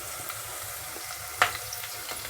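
Curry leaves with ginger and garlic fry in hot oil in a pan, giving a steady close sizzle with one sharp crackle partway through.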